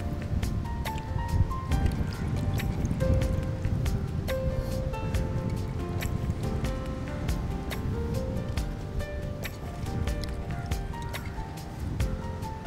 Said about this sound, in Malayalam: ശകലം വെള്ളം കൂടെ ഒഴിച്ച് ഇതൊന്നുകൂടെ കഴുകിയിട്ട് നമുക്ക് കോരി ഇടുകയാണ്.